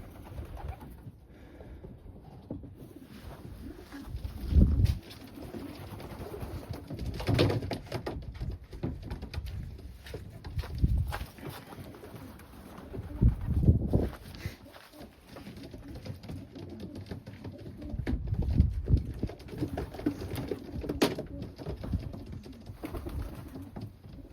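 Young Janssen De Klak pigeons coo in low, soft, repeated murmurs, several birds overlapping in bursts, with occasional fluttering and faint rustling in between.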